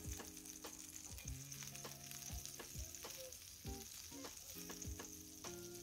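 Butter melts and sizzles in a pan with oil, seasoning and thyme, a steady frying hiss under repeated scraping and stirring clatter from a utensil, close and continuous, with no voices.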